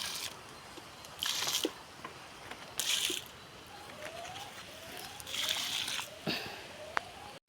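Water poured onto young sugarcane plants in a field, coming as several separate splashing bursts with quieter gaps between them, moderately close against a faint outdoor background.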